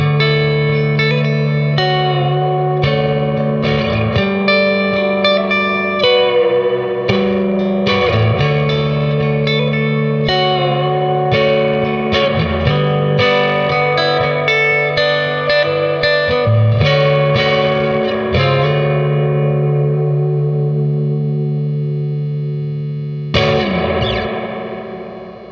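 Fender Vintera III Jaguar electric guitar played through its neck pickup into a loud amp with reverb turned up, strummed chords and picked notes ringing out with a washy reverb tail, a final chord left to decay.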